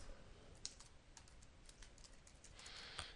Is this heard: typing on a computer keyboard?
yes